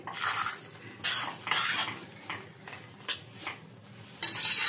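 Paneer bhurji is stirred in a pan with a spatula, making rhythmic scraping and clinking strokes roughly once a second over a faint sizzle, ending in a louder burst.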